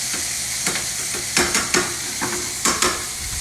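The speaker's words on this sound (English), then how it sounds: "So we have our garlic, oil, butter, ham, mushrooms, onions. Start to cook that down." Garlic, ham, mushrooms and onions sizzle in oil and butter in a pan, a steady close frying hiss broken by several sharp clattering stirs, with no talking.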